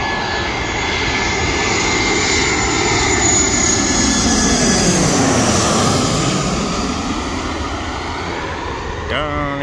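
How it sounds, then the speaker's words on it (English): A propeller airplane drones overhead, its engine swelling loud and close, then slowly fading as it passes. "And here comes the plane again."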